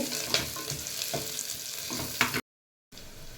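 Onions with curry leaves sizzle and spit in hot oil, with scraping stirring strokes over a steady frying hiss, cut off briefly by a moment of silence before the sizzle resumes.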